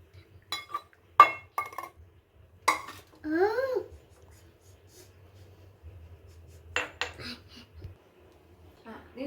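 A herbal kashaya decoction for cough and cold, sweetened with powdered jaggery, is strained into a glass while metal utensils clink sharply a few times. A voice speaks softly between the clinks in a quiet kitchen.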